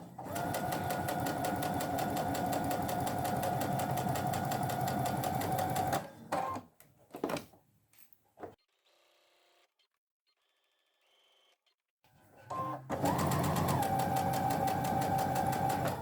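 Sewing machine stitching apron fabric, a steady fast mechanical whir close up that stops, goes quiet with faint clicks, then resumes at full speed for the back stitch.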